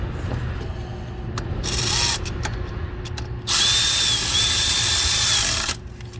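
Ratchet tightening a bolt on the fan of a Ford 6.7 Powerstroke diesel truck, with close, loud bursts of rapid clicking and metallic grinding in two main spells separated by brief pauses.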